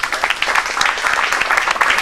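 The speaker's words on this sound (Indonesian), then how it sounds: "Tepuk tangan lagi dong." Audience clapping at an Indonesian stand-up comedy show in a brisk, dense burst of many hands, steady and fairly loud with a faint murmur of voices mixed in.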